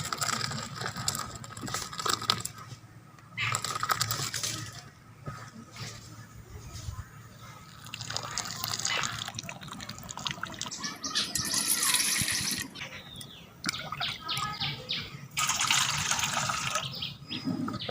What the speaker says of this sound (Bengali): দুধটা কেটে গেছে, ছানা তৈরি হয়ে গেছে। ছানাটা ছেঁকে নেব, ছানাটা ঢেলে নি কাপড়ে।